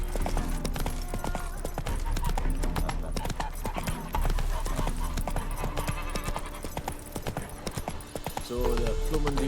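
Roach the horse gallops in The Witcher 3, a rapid, loud hoofbeat rhythm running throughout under steady game music and ambience, with a brief neigh-like sound near the end.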